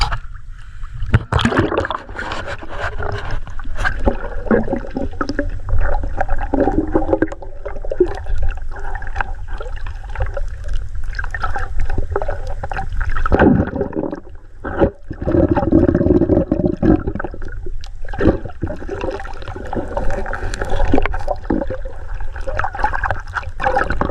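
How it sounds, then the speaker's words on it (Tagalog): Strong sea waves roll and wash against the shore at night while wind roars steadily over the water, a continuous rushing surge with brief lulls near the microphone. "Malakas yung alon. Ang hangin"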